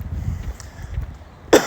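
A single sharp, loud cough bursts out near the end, following a stretch of quiet low rumbling background.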